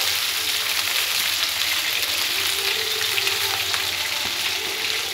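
Rice frying in ghee in a pan, a continuous loud sizzle and crackle with faint stirring scrapes that holds steady throughout.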